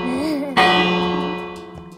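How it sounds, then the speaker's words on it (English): A church bell in the Minecraft video game, rung in a newly built bell tower, strikes once with a loud sudden clang that rings on with a long sustained tonal decay, after a brief stretch of quieter tonal sound. "Ring the bell, ring the bell, ring the bell. Come on, ring the bell."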